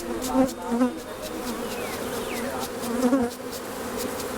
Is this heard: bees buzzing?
yes